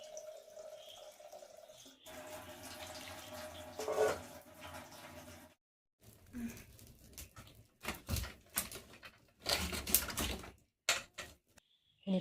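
Running tap water splashes in bursts while cassava is washed until the water turns clear, with intermittent gushes, pauses and clatters of handling close by.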